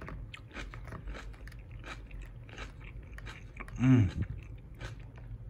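Crunchy Miyama brand kimchi from a Japanese market in Yokosuka is bitten and chewed close to the microphone, with one loud crisp crunch partway through and an appreciative murmur.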